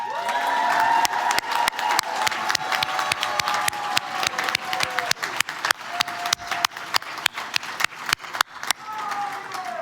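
A commencement crowd at a university graduation ceremony in Europe applauds and cheers for their accompanying guests, steady dense clapping with scattered whoops that fades toward the end into sparse, individual claps.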